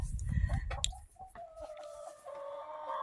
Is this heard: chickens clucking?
yes